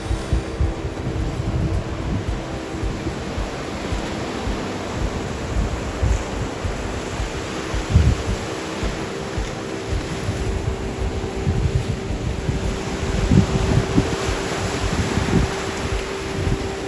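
Sea waves washing onto the shore near Tulum, Mexico, a continuous loud roar of surf mixed with wind buffeting the microphone, steady for the whole stretch with a few stronger surges.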